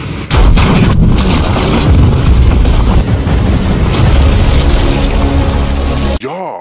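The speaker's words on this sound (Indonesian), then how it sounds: "sebuah truk bom bunuh diri melaju kencang ke arah gedung, yang mana kemudian Pak Mayor bersama satu prajurit yang masih di sana pun ikut ditelan oleh ledakan dahsyatnya" A suicide truck bomb detonating in the 2019 film The Blackout: a loud, close blast sets off a heavy, sustained roaring rumble that fills several seconds before cutting off abruptly.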